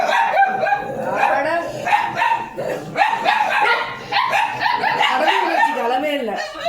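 A dog barks and yelps repeatedly at home around mealtime, with steady overlapping voices and bursts of harmonic yaps running through the whole stretch.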